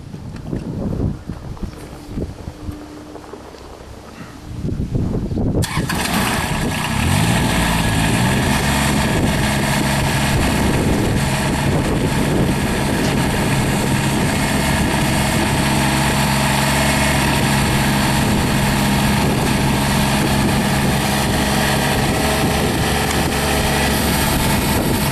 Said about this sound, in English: This time I'm going to go ahead and start the tractor.